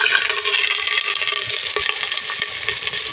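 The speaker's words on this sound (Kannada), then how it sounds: "ಈಗ ರುಬ್ಬಿರೋ ಮಸಾಲೆನ ಸೇರಿಸ್ತಾ ಇದ್ದೀನಿ" Ground masala paste goes into a hot pan of frying ginger and garlic for a homemade egg curry, giving a bright, continuous sizzle with scraping stir strokes and small clinks close by.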